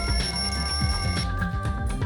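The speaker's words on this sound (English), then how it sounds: "The lounge's wall clock alarm started ringing at 5:30." Wall clock alarm in Danganronpa 2 rings continuously with a steady electronic bell-like tone over game music.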